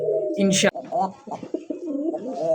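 A Rasgolla pigeon with a sky-blue throat coos up close in a short, throaty, wavering call, with a brief sharp flutter or scuffle near the start.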